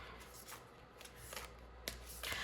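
Unglossed oracle cards being shuffled by hand, giving soft, uneven riffling and sliding bursts with a few sharper flicks, close and fairly quiet, with no talking.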